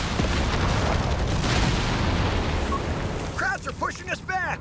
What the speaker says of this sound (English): Incendiary bombing run, I don't think you could even really hope to shoot that down